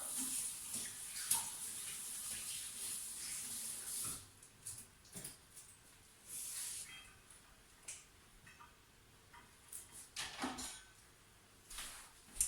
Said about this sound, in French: Je me rince à nouveau vite les mains.